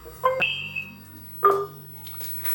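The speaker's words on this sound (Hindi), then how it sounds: "यहाँ पर मुझे एक कॉल आया है" The screen of an OLA S1 Pro electric scooter gives an incoming-call alert: a short series of electronic beeps and chimes, close and clear, spread over a couple of seconds.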